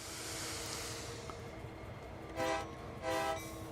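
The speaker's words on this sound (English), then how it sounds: "2 honks, because it's America." Two short blasts of a diesel locomotive horn in the Train Sim World 2 game, heard over a steady low engine rumble, the pair of honks spaced about half a second apart near the end.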